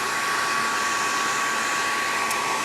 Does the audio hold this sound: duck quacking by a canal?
no